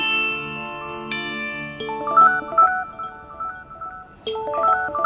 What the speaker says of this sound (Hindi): ये हर बार मूड खराब करने पता नहीं कौन घंटी कर देता है